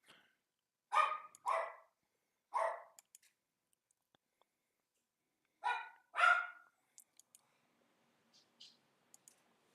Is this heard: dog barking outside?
yes